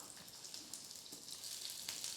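Chilli and onion fry in hot oil in a small kadai for peanut chutney, giving a soft, steady sizzle that stays quiet and even throughout with no talking.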